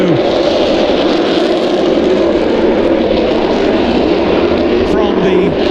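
A Saab JAS-39C Gripen jet fighter from the 211th Tactical Squadron flying a display at the NATO Days and Czech Air Force Days airshow, a loud continuous jet roar filling the air over faint crowd and announcer talk.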